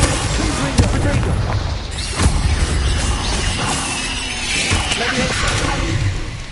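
Repeated spell explosions from the Hogwarts Legacy video game, loud booming blasts and crashes layered densely over a busy combat soundscape, with a voice shouting spell names throughout.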